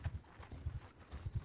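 Horses in the video game Mount & Blade II: Bannerlord, a soft rhythmic run of hoofbeats in quick clusters, faint and muffled, with no talk.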